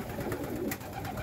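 Pigeon chicks crowded in a loft compartment holding over a hundred young birds, giving soft, close, continuous cooing and murmuring.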